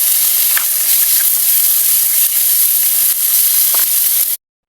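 Tomatoes hitting a hot frying pan with ginger for a tuna dish give a steady, loud sizzle and hiss that holds evenly throughout, with a few faint clinks of stirring, then cuts off abruptly.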